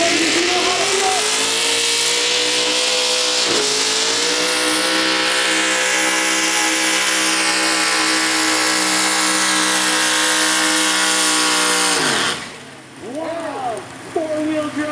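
Modified four-wheel drive truck at a night event in the parkland, accelerating hard down the track with a loud, rising engine roar and a brief gear-change dip before cutting off abruptly, followed by an announcer's voice.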